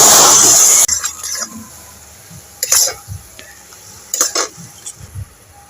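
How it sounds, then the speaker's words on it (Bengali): Water poured into hot sugar caramel in a pan sizzles loudly in a brief burst, then gives way to quieter clinks and stirring sounds from the pan. "এবার আমি জল দিয়ে দেব।"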